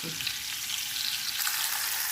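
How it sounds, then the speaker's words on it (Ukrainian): Fish fillet frying at high temperature in a pan, a dense, close, continuous sizzle with crackling spits that stays steady for a couple of seconds, no talk. "Смажую на високій температурі з обох сторін"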